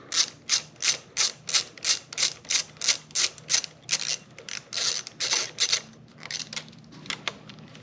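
A ratchet turns out the 8mm handlebar clamp bolts on a dirt bike, giving about a dozen evenly spaced, crisp clicking bursts up close, then a few quicker, uneven strokes near the end. No one speaks.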